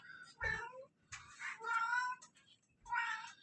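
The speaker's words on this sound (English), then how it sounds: "my kitty is watching now." A pet cat meows three times in a row nearby, each call drawn out and clear against a quiet room, with short pauses between them.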